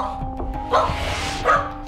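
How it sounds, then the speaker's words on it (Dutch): A dog barks twice, fairly close and moderately loud, the two sharp barks about three-quarters of a second apart over a steady low background hum. "Blaffen natuurlijk."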